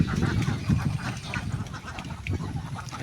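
Khaki Campbell laying ducks, three of them, give repeated, overlapping quacks close by at a steady moderate level, with farmyard background noise throughout.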